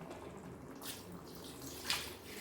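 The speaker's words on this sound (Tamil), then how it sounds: "இப்போ தண்ணி தேவையான அளவுக்கு ஊற்றிக்கலாம்" Water pours into a pot of chicken leg-piece biryani, a soft steady splashing and trickling that swells briefly, heard close with a low hum of kitchen background and no talk.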